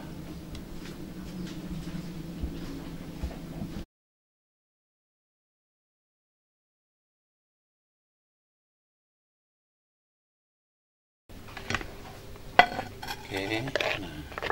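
Mashed jengkol is scraped and moved with metal utensils into a dish, giving clattering clinks of cutlery against crockery, followed by a silent gap and then more close, sharp clinks and scrapes.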